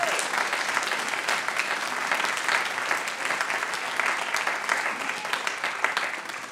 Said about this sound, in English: can you give them another round of applause for the progress they've made?